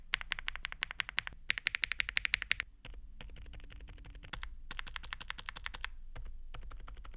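A newly built mechanical keyboard being typed on: dense bursts of crisp, clacky keystrokes in quick flurries separated by short pauses, close and alone without speech.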